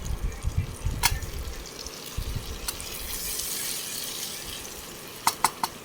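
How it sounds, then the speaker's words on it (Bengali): Boiled taro stolons being stirred in a cooking pan, giving a soft, wet shuffling and sloshing with a few sharp utensil clicks against the pan, fairly quiet and close. "এবার এটা আমি ভালো করে নাড়িয়ে নেব।"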